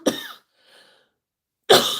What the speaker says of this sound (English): I need to cough, guys.